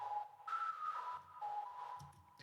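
A soft synth whistler layer for an EDM house lead melody holds thin, pure, sustained tones that glide between a few pitches, faint and alone.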